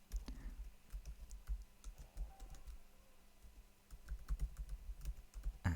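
Computer keyboard typing, clustered keystroke bursts with short pauses, close and fairly quiet, with no talking, while a search topic is entered into Google.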